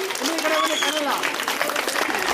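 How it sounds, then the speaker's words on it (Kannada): Children applaud at a school event, steady dense clapping from a crowd that keeps going throughout, mixed with voices and a brief tonal whine in the hall. "ಮಕ್ಕಳೇ ಇಲ್ಲಿಂದ ಚಪ್ಪಾಳೆ ಬರ್ತಿದೆ ಅಷ್ಟೇ, ಆ ಕಡೆ ಪೂರ್ತಿ ಚಪ್ಪಾಳೆನೇ ಕೇಳಿಸ್ತಾ ಇಲ್ಲ"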